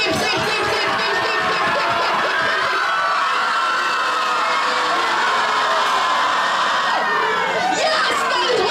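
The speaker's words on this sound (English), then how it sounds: "I do not care when you scream. Please scream." A large crowd screams, shouts and cheers at full volume, a dense and continuous roar of many voices with high-pitched whoops, sustained without a break.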